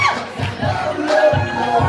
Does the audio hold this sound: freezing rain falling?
no